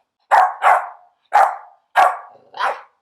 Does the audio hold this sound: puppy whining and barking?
yes